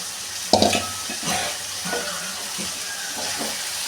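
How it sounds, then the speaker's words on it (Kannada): Legumes tipped into a hot clay pot for a village-style kalu palya land with a sharp clatter and burst of sizzling, then fry with a steady close crackle and intermittent stirring scrapes, with no talking. "ಕಾಳು ಹಾಕೊಂಡು ಒಂದು ಸ್ವಲ್ಪ ಇವಾಗ ಫ್ರೈ ಮಾಡ್ಕೊಳ್ತೀನಿ"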